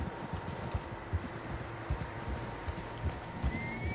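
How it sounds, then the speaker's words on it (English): Steady clip-clop of several horses' hooves in a fast, rhythmic gallop over a low rumbling background, no talking, in the video game Red Dead Redemption 2. "Horses, quite a few of them."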